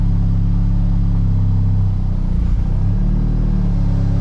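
BMW Z4 E89 engine idling after a new timing chain was fitted, a loud steady low rumble close by with a slight hunting dip and swell in the middle, and no talking.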